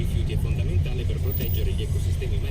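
Steady low rumble of many cars on a busy Sunday street in Italy, engines droning continuously up close, with people talking over the traffic throughout.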